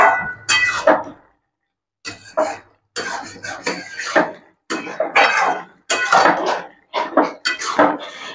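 Spoon stirring beans and potato curry in a pan with repeated scraping and clanking bursts, close and fairly loud, in an uneven rhythm with short pauses between strokes.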